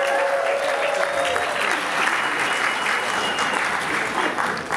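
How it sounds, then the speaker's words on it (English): A packed cinema audience at a sold-out screening applauds, steady loud clapping from a large crowd sustained throughout with some cheering mixed in. "Can you please give yourselves a round of applause for a sold-out screening?"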